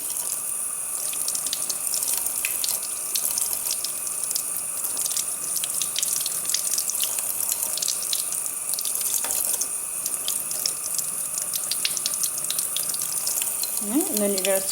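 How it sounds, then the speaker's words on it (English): Warm tap water runs steadily into a sink while makeup brushes are rinsed, a constant close hiss and splash lasting throughout. "you're going to take it back under your warm water"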